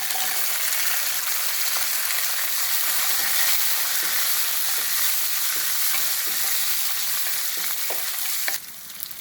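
Shallots and curry leaves sauté in a pan for a Tamil bisibelabath, giving a steady, loud sizzle with scattered stirring scrapes and clicks, and no voices.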